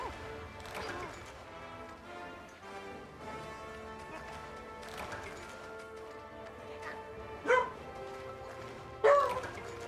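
A pet dog barks indoors during a Monster Hunter 3 Ultimate gaming session, giving a few short, sharp barks near the end over steady game music.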